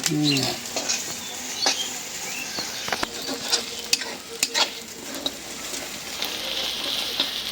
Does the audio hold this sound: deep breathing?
no